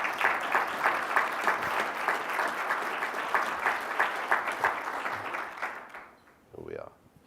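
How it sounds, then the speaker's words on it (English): Conference audience at a corporate welcome session applauding, with rhythmic, pulsing clapping that fades out after about six seconds, followed by a brief voice speaking. "A round of applause, please."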